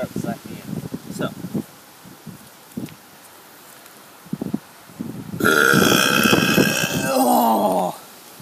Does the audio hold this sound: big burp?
yes